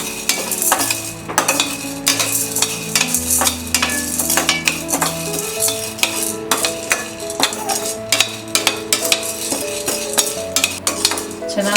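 Chana dal roasting on low flame for molaga podi, stirred in a pan with a metal spoon: steady scraping and clinking strokes over a soft sizzle, close and continuous, with background music playing underneath.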